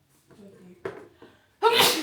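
A single loud, sharp sneeze bursts out after a few soft murmurs and brief clicks close by.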